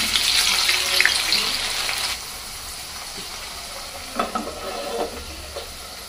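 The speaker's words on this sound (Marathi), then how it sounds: "अगदी थोडे थोडे दाणे तळून घेणार आहोत" Corn kernels frying in hot oil in a kadhai, starting with a loud crackling sizzle that drops to a steadier, softer bubbling hiss with scattered pops and spatters.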